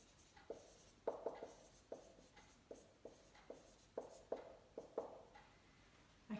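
A trigonometry formula being written by hand, a series of short, crisp scratching strokes in an irregular rhythm, close and fairly quiet, with no talking.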